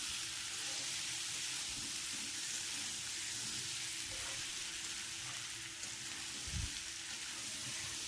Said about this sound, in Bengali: টমেটো আলু মশলা ভালো করে কষিয়ে নিতে হবে।